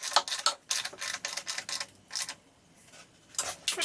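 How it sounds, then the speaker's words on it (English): Heat shield fasteners being tightened on a Husqvarna Norden 901 motorcycle, a series of close, crisp mechanical clicks and ratcheting bursts with a short quiet gap partway through. "Now we're going to go ahead and tighten this up."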